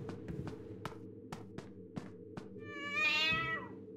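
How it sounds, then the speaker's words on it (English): A cat meows in the video game Five Nights at Freddy's: Into the Pit, short repeated sharp calls in an irregular rhythm over a steady low hum, ending in one longer, louder drawn-out meow. "Oh, shut up, cat."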